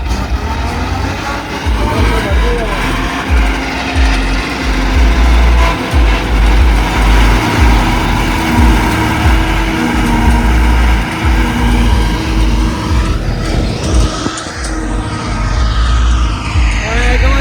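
A tractor engine running during maize silage work, a loud, steady low drone that continues throughout, with people talking over it.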